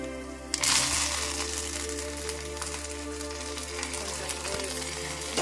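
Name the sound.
curry leaves sizzling in hot oil with peanuts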